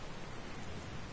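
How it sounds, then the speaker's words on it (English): Steady, dense hiss of rain falling in the video game Dragon Quest Builders 2, an even wash of noise with no pauses or voices. "Where did this rain come from?"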